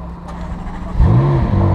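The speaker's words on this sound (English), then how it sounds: "press the start engine button and keep hold of it until it starts" Ariel Atom engine cranking and catching at about one second, then settling into a loud, steady idle rumble close by, with no talk.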